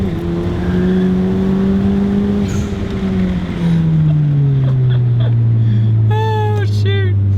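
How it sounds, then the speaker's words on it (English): A Honda Civic Type R accelerates hard from a 40 mph roll with its tires spinning, the engine note climbing loudly and droning through the run, heard from inside the car. "Spinning tires."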